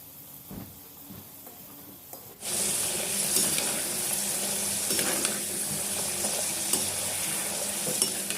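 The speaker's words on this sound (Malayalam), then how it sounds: "ഇനി നമ്മൾ ഫ്രൈ ചെയ്തെടുക്കുമ്പം തീ ഹൈ ഫ്ലെയിമിലിട്ടിട്ട് വേണം ഫ്രൈ ചെയ്തെടുക്കാൻ." Potato french fries frying a second time in hot oil over a high flame, a loud steady sizzle that starts abruptly after a quiet opening and holds close and continuous, with occasional stirring clinks.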